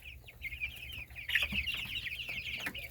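Chickens clucking in short, repeated bursts, with several birds calling over one another at close range and steady farmyard background noise.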